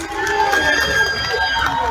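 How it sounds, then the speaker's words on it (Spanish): A concert audience at a bolero show in the Teatro Ferrocarrilero keeps up a steady wash of applause mixed with shouts and calls for another song, filling the room evenly throughout. "La otra se pide con aplausos. La otra se pide con gritos."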